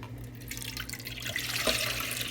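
Warm water pours steadily in a home kitchen for focaccia dough, a continuous splashing stream that runs alone and grows slightly louder toward the end.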